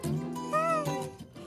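A Persian cat lets out an odd, drawn-out meow with a wavering, almost human-like pitch, a single close vocalization lasting about a second followed by softer sounds.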